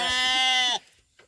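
Farm sheep let out one loud, close bleat with a strong harmonic tone that lasts under a second and cuts off abruptly, followed by quiet.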